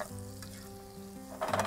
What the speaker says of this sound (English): And you can see and hear the sizzle.